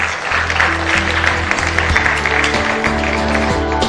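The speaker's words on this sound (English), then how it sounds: "A huge round of applause for Professor Abhay Karandikar." Audience applause at a digital technology summit in India, a dense steady roar of clapping hands lasting a few seconds with a low tonal hum beneath it.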